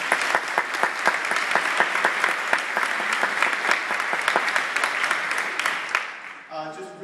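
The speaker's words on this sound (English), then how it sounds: "give them a round of applause" Conference attendees at an oncology nurse and patient navigation event give steady applause, a full patter of many hands with crisp individual claps, fading out near the end as a voice begins.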